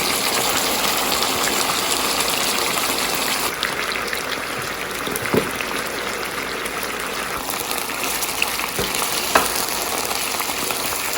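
White chicken karahi sizzles and fries steadily in a pan over medium-high heat as the last batch of yogurt goes in, a dense continuous crackle with a few sharp spatters and no talking.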